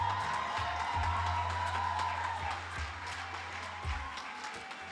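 Applause and some cheering from the audience at a Jamaica Teachers' Association conference awards ceremony, moderate clapping in a large hall that gradually fades.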